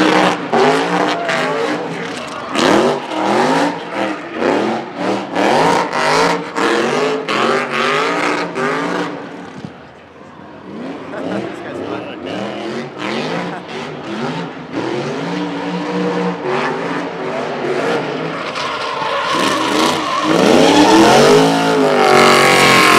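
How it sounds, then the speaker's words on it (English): At the SEMA 2017 show, a drifting car revs hard in repeated surges, its engine roaring and tires skidding, then winding up again after a brief lull, loud and close. "Oh, another guy drifting."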